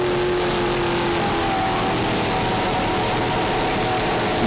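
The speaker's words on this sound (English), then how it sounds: "Another one of the Fountain skaters with Mercury 525 engines and Mercury number 6 drives." Fountain powerboat with Mercury 525 engines and Mercury number 6 drives running at speed, a steady loud engine roar with rushing water and wind noise throughout, no talking.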